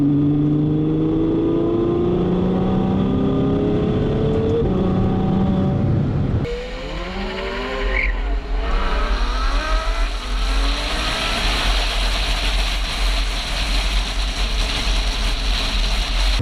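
A 2017 Ferrari F12 Berlinetta's naturally aspirated 6.3-litre V12 with a dual-clutch gearbox, heard close and loud, rising in pitch, then dropping off and climbing again through repeated hard revs.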